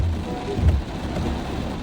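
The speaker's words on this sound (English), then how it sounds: "I think there's like the storm cloud coming in." Storm rain pours in a steady, dense hiss, with a low rumble of thunder swelling briefly midway, fairly loud and continuous without speech.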